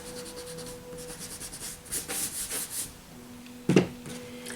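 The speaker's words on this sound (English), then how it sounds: "I'm going to erase this line and this line." A pencil drawing being erased by hand, soft scratchy rubbing strokes in short bursts on paper, close and quiet, ending with a sharper knock.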